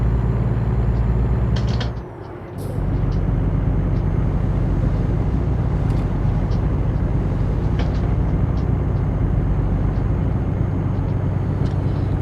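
A truck drives in the video game American Truck Simulator, cruising at highway speed with a loud, steady engine and road rumble, briefly dipping around the two-second mark before resuming.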